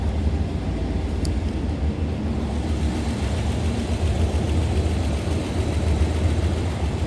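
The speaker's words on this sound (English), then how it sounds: "rumble coming out of that 292. A deep throaty exhaust note." The 292 V8 engine of a 1955 Ford Thunderbird convertible idles close by, a deep, throaty low exhaust drone that holds constant throughout.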